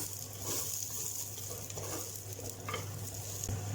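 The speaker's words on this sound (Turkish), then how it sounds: "Şimdi biberleri ekliyoruz. Biberleri de bir süre kavuracağız." Peppers sautéing in a pan for a potato, carrot and pea dish, a faint steady sizzle with soft occasional stirring scrapes and a light clink, quiet and alone without voices.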